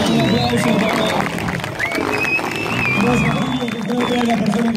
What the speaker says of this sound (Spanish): se continúa desarrollando un aplauso